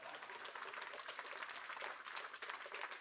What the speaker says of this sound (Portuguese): Aplaudam.